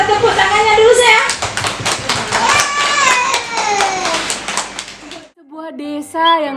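A group of kindergarten children claps hands together in a classroom, quick overlapping claps mixed with their excited voices, followed by a brief pause and then someone speaking.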